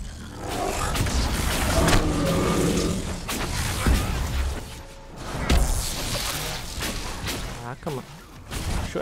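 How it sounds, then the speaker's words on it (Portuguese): An explosion spell going off in Dragon Age: Inquisition, among dense crashing combat effects and rumbling booms, with someone talking over the loud, continuous battle sound. "dar a explosão perto dele aqui, ó."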